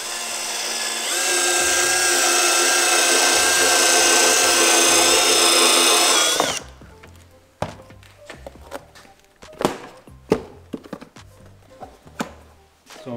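A power drill bores an 18 mm hole while a luggage rack is fitted to a GasGas ES 700 motorcycle, a loud, steady whine for several seconds that stops abruptly, followed by scattered knocks and handling clatter nearby.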